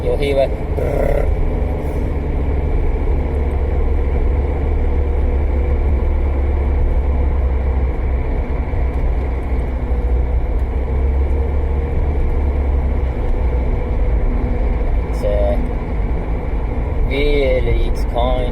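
Honda Jazz CVT automatic gearbox pulling away from cold, giving a continuous low engine drone with a faint shaking judder, heard from inside the cabin with no talk.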